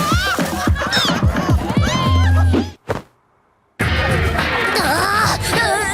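Loud, crowded pigeon calls, squawks and coos piled together, cut by a sudden second of silence before the noisy chatter resumes.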